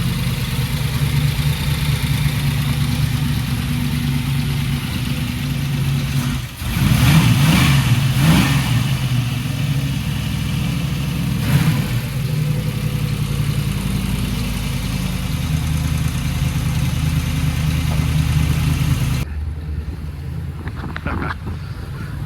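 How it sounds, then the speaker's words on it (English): A rare Chevy LS overhead-cam engine runs loud and close with a steady rumbling idle, swelling into a sharp rev burst around the middle and a second lighter blip later, then settling back to a lower idle. "We'll start it up first, and we'll hear it run."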